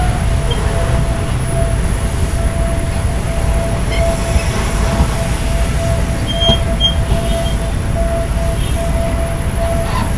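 Steady loud rumble of a steam locomotive special train at Samsen railway station in Bangkok, with a constant high whine and faint metallic squeals over the noise.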